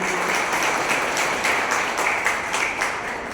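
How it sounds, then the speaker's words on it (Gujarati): An audience claps for a donor family at a cow shelter shed inauguration event, steady dense applause throughout with no voices on top. "એકવાર આ પરિવારને જોરદાર તાળીઓથી વધારી"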